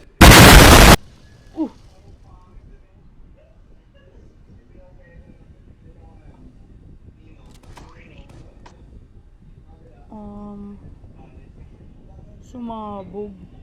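A sudden loud explosive boom bursts out at the very start and cuts off within a second, followed by quieter background noise with scattered voices and brief tonal sounds.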